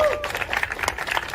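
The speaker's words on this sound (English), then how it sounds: "we got a winner, let's give them a round of applause." Audience at a tech talk clapping for a prize winner, a brief burst of dense applause from a seated crowd with some voices mixed in.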